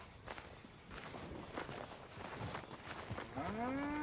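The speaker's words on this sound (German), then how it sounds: "So, und da ist die Kuh." Footsteps plod along with a few faint high beeps, then a cow in Red Dead Redemption 2 lets out a low, drawn-out moo close by at the end.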